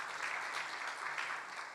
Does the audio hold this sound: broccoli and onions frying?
no